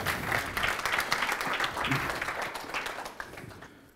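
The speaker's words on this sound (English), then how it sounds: "Let's give a big welcome applause for Vedran Radinović-Lukić from Serbia." Welcoming applause from an audience greeting a speaker at a talk, a dense wash of clapping that holds steady then thins out and fades toward the end.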